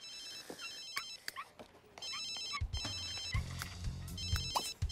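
A mobile phone rings in The Sims 3, a bright repeating electronic ringtone in short bursts over quiet game background music.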